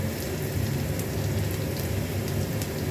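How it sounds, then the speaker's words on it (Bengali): Chopped onions fry in hot oil in a pan, giving a dense, steady sizzle and crackle that carries evenly throughout with no voices. "এবার এই পেঁয়াজগুলোকে ভালো করে ভেজে নেব"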